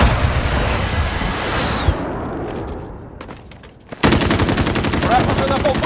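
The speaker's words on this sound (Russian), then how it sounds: "Внимание! Союзник выполняет авиаудар." Heavy explosions and rolling gunfire from an allied airstrike in the shooter game Call of Duty: Modern Warfare, loud and dense, easing briefly before a fresh barrage of rapid automatic fire bursts in close.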